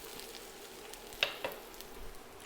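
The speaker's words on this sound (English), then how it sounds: "Keeping one eye out for your red onion here, cooking away nicely in the background." Red onion fries in a hot pan with a faint, steady sizzle, punctuated by a couple of sharp utensil clinks; no voices are heard.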